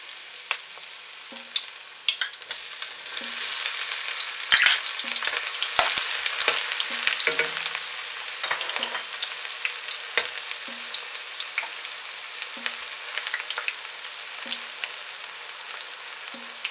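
Garlic and onions fry in a pan with a steady, bright sizzle, joined by scattered clicks and scrapes from stirring. A faint, regularly repeating low tone sits underneath, and no one speaks.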